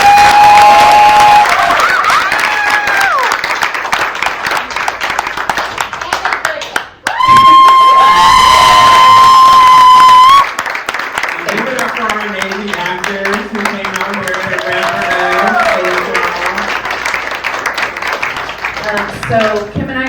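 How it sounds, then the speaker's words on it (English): An audience at a women's conference applauds and cheers for a guest, a broad sustained wash of clapping with a brief steady tone partway through and voices mixed in. "another round of applause for Ms."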